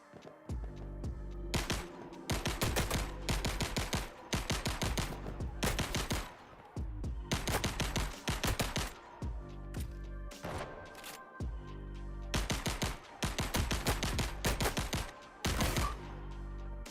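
Game gunfire from the video game Lyra, including pistol shots, plays as dense, loud, repeated volleys of shots with brief gaps between them throughout, and no voices are heard.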